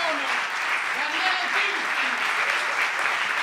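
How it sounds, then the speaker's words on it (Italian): Steady, sustained applause from a comedy club audience fills the whole stretch, dense and even, with faint voices from the crowd mixed in. "Un applauso anche a Snodo, a The Comedy Club, Enrico, Leo, Ste"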